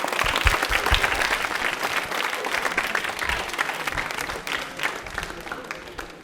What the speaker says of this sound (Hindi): तालियां बजा रहे हो इनके लिए एक बार जोरदार वाली